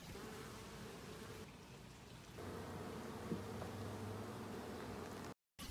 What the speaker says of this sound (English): Let's open this hive and see what's going on.